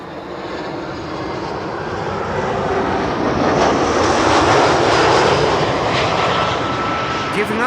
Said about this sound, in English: the A380 visually on the base leg. Turning in for final.